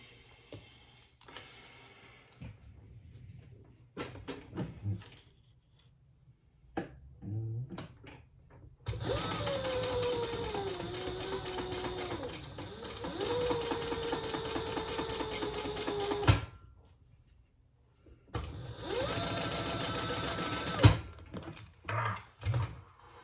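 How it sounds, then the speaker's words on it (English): A sewing machine stitches curved bag pieces together at the seam, running in long steady whirring bursts broken by pauses, with fainter handling clicks between runs. "we're going to stitch those together at the seam allowance in the pattern"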